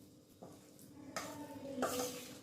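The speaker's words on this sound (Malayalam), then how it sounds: "ചൂടോടെ ആയതുകൊണ്ട് ആദ്യം സ്പൂൺ കൊണ്ട് നമ്മൾ മിക്സ് ചെയ്യുക" A spoon mixes a thick, warm jackfruit batter of leaf flour, jaggery syrup and milk, giving a few soft scraping and tapping strokes against the bowl, close and quiet with no talk.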